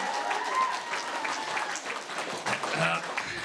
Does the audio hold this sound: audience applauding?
yes